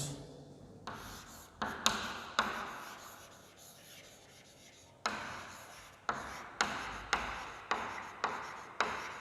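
Marker or chalk scratching across a board in a statistics lecture hall: short bursts of strokes, then a steady run of evenly spaced, taps and scrapes. No voice is heard.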